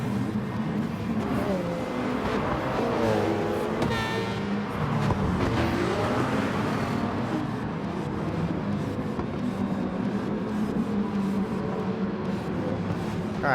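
Race car engines in Gran Turismo Sport roar continuously in a close pack, with an Audi just ahead, engine pitch rising and falling through gear changes and revving over about thirteen seconds.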